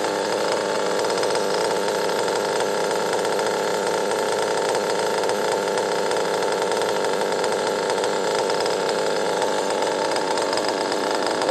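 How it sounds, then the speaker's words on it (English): A cold engine idling high while it warms up, a steady, loud, buzzing drone that holds unchanged throughout with no voices. "The idle's a little higher than I like it, but it's still cold."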